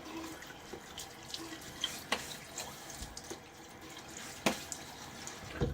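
Cold tap water runs into a sink to wet the face before a shave with a Blackland Dart razor, a steady close splashing stream broken by a few louder splashes and drips, with no talking.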